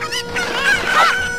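Cuckoo chickens in the video game Zelda: Ocarina of Time squawk and cluck in a dense, overlapping flock, loud and continuous with no talk over them.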